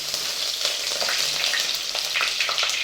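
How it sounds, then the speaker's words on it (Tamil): Green chillies, dried red chillies and curry leaves crackle and sizzle in hot oil for a fish curry base, a bright, busy, close frying hiss that runs throughout, with no talk. "ரெண்டு பச்சை மிளகா ரெண்டு வரமிளகா எண்ணெயில் போட்டுக்கலாம் அதோட கொஞ்சம் கருவேப்பிலை"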